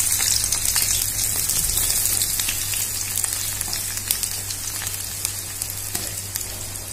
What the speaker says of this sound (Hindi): ये ऑयल हमारा गर्म हो गया है, अब हम इसमें अपने प्याज डाल देते